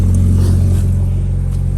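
A Mazda MX-5 (Eunos/Miata), a rear-wheel-drive roadster, idles nearby with its engine running, giving a steady low rumble with a thrumming pulse and no voices.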